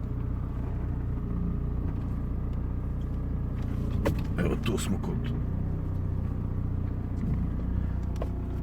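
A car engine idles steadily at a technical inspection station, a low continuous rumble running throughout while someone speaks over it and brief clatters and knocks occur in the middle.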